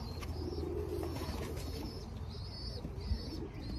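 A racing pigeon gives soft, repeated low coos at close range in a quiet loft, with faint rustling and a brief flutter of wings.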